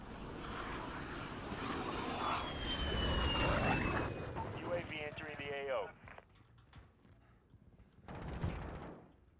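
Enemy VTOL aircraft in Call of Duty Modern Warfare, a loud jet-engine roar with a sweeping whine that builds for several seconds, then fades, with gunfire and game voices mixed in.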